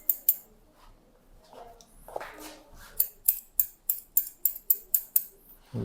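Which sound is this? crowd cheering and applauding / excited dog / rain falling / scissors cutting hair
scissors cutting hair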